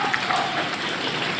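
Rain falls steadily over a small backyard garden planted with ginger in the rainy season, a dense, close, even hiss of drops with no voices.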